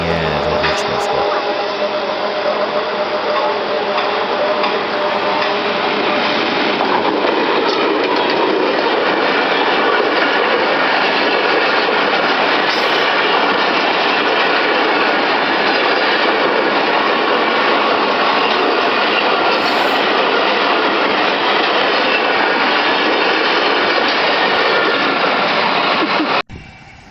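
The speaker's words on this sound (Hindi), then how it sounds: "यहाँ पर 50-22 रावलपिंडी जाने वाली 131 अप रोही एक्सप्रेस को वर्क कर रहा है।" Pakistan Railways GRU 20 locomotive 5022 hauling the 131 Up Rohi Express toward Rawalpindi near Multan, a loud, continuous rush of passing coaches with rhythmic wheel clatter over rail joints that cuts off abruptly at the end.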